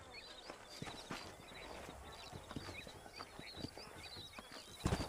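Horse hooves clip-clop at a steady walking rhythm in the Red Dead Redemption video game, close and clear, with a brief louder thump near the end and no talking.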